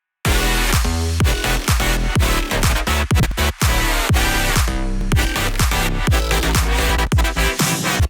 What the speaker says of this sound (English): So basically the drop sounds like this.